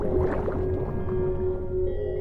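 Whale calling underwater in the open ocean, a steady low drone with a sustained tonal note running throughout, moderately loud with a faint watery wash and no voices.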